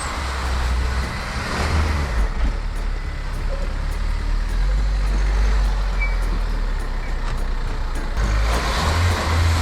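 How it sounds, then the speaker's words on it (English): A car stuck in snow during an Icelandic winter, its engine held at steady high revs as the wheels spin, a continuous low rumble close by with no talking over it. "So the wheel is just spinning and spinning"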